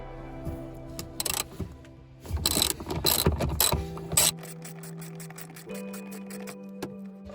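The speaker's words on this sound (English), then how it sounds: "This one here is a 15, so we'll just get our socket on out." A ratchet with a 15 socket undoes a rear seat bracket bolt in an Alfa Romeo Giulietta, with loud bursts of rapid clicking followed by a steady run of evenly spaced ratchet clicks, close and without talk.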